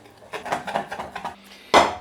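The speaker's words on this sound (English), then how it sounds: "And I'll mix everything together" Water, sugar and flour for a cheesecake filling are stirred in a bowl, giving a series of quick clinking, scraping utensil taps close by, ending with a louder knock, no voices.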